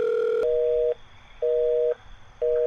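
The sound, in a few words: telephone busy signal on an unanswered call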